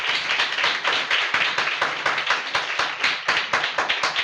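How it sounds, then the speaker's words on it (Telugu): Church congregation at a Sunday service clapping hands together in a steady, fast rhythmic beat, crisp and fairly close, sustained with no talk over it. "చప్పట్లు కొట్టండి, గట్టిగా గట్టిగా చప్పట్లు కొట్టండి"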